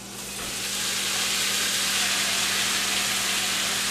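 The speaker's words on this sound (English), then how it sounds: "We're just going to take our spoon and get all of that bacon grease and the bacon sort of incorporated throughout, and let that fry just for a few seconds" Turnip greens frying in bacon grease in a pot give off a loud, steady sizzle that swells in the first second and holds constant, with a low hum underneath and no voices.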